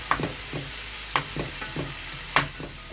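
Chicken, carrots and mushrooms stir-fry in a pan, with a steady low sizzle broken by periodic sharp scrapes and clacks of a utensil stirring the food, close and fairly loud.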